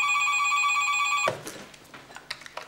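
A telephone bell rings steadily for just over a second, then cuts off abruptly, leaving faint clicks and scattered small noises.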